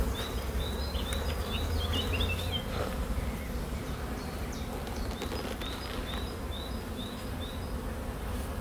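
A dense, constant hum of honey bees swarming around a hive fills the air close by, with a few high chirps from birds scattered over the top.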